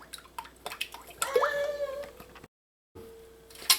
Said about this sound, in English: pour your heavy whipping cream into your mixing bowl